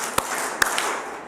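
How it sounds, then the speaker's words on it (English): Claps from a congregation at a Sunday service, two or three sharp separated claps in a roomy hall with no voices. "Clap 3 times if you can hear me"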